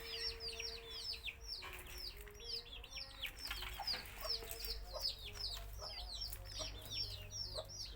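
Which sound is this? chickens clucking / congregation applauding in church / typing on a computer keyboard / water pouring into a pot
chickens clucking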